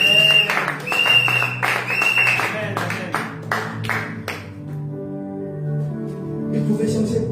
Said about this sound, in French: Est-ce qu'on peut acclamer pour l'Éternel?